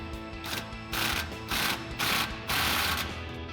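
A 21mm socket on a hand ratchet tightens a bolt on a Jeep Gladiator JT suspension lift kit, giving several short bursts of rapid clicking in an uneven rhythm, close and fairly quiet, with no talk.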